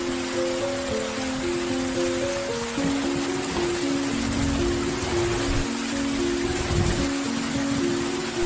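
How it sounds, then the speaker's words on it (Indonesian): Rain falls steadily with a broad hiss, under a sustained low tonal drone of background music that shifts pitch. "Tiba-tiba hujan turun."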